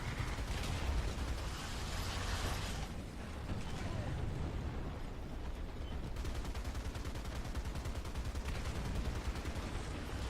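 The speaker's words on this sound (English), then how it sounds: "someone has opened an artillery fire on my position" Heavy artillery fire in the War Thunder tank game, a dense, continuous barrage of booming blasts and crackling shots that rumbles steadily throughout, loud and close.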